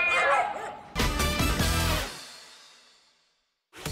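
A dog barks in a quick run of yips and barks close by, then goes quiet before another bark begins at the very end.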